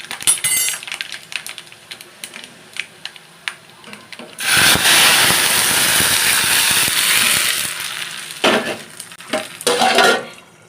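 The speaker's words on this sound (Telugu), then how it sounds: "ఇవి బాగా వేగిపోవాలి" Onion and dried red chillies drop into hot oil as tempering for rasam. Light clicks and taps come first, then a loud hissing sizzle bursts up and holds for about four seconds before fading into more scattered clatter.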